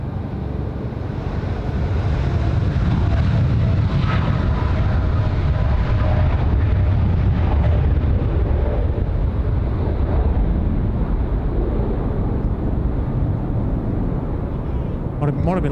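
An Air India jet landing at Sydney Airport at night, a loud, broad rumbling roar that holds steady for many seconds before easing off, with wind buffeting the microphone.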